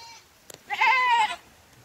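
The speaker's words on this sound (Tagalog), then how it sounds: "Ano tumatawag na yung kambing?" A goat out in the rain lets out a single loud, wavering bleat lasting about half a second, heard close up over a soft background with a faint tap just before it.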